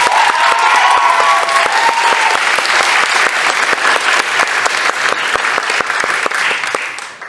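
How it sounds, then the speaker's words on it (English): A closing ceremony audience breaks into loud, sustained applause, dense clapping from a large crowd that carries on evenly for over seven seconds before tapering off. "Can you please give them a round of applause?"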